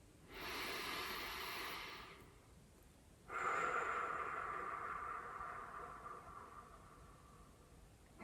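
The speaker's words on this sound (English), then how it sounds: "nose in and mouth out" A person breathes slowly, drawing air in through the nose and letting it out through the mouth: a soft hissing inhale of about two seconds, a pause, then a longer, airy exhale that fades out, close and quiet.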